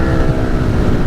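Continuous low engine drone and wind rush from a Yamaha MT-07 LAMS motorcycle being ridden, loud and steady through the brief moment.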